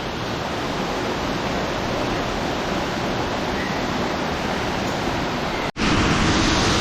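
A waterfall roars inside a cave, loud and unbroken like dense rushing noise, with a brief sharp dropout near the end before the roar resumes.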